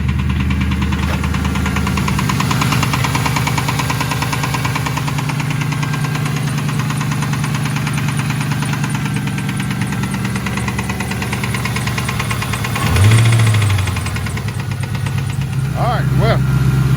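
Ford Mustang engine idles steadily after a few hard revs, a close, even mechanical clatter with a slight knocking tick, and a brief louder surge near the end.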